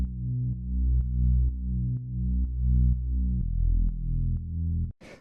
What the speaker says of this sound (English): the next layer I will show you is the bass, which sounds like this.